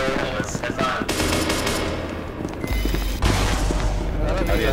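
Gunfire in a video game, rapid bursts of shots rattling loudly and continuously under a voice talking over the action.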